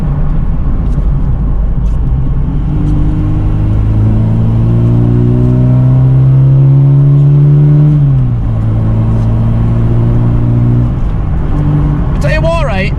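A 1986 Ford Capri with a 2.0-litre Pinto engine accelerating from inside the car, droning up through the revs, briefly dropping at a gear change, then climbing again before a short voice at the end.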